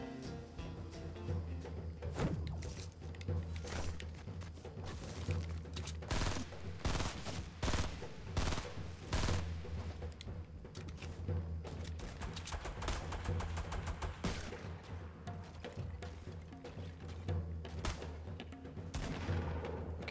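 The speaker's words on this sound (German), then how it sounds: "Ich höre Schüsse. Wo sind die?" Rapid bursts of Fortnite gunfire crackle throughout, dense and continuous, with sharp repeated shots layered over a steady low rumble, like an intense firefight.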